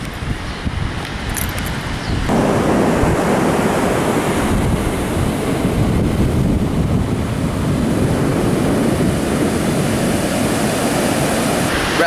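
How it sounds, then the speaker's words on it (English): Surf and wind at Mission Beach, San Diego: a continuous roar of breaking waves with heavy wind buffeting the microphone, loud and close, and no voices. "We're at Mission Beach in San Diego."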